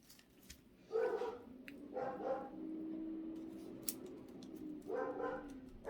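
A puppy gives three separate, fairly faint barks spaced over a few seconds while the low rumble of a passing garbage truck drones underneath at a distance.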